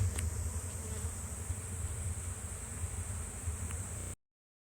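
A swarm of bees fans at a hive entrance in the evening, a faint, continuous buzzing hum over a high steady whine, with no talking.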